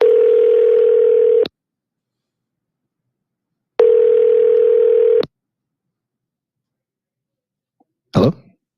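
A telephone dial tone plays steadily, stops, returns for a second burst, then a short dialing click or tone follows after a pause, with no voices.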